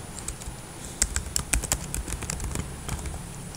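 Fingers type on a computer keyboard at a moderate pace, with quiet, irregular clicking keystrokes close by over a low room hum.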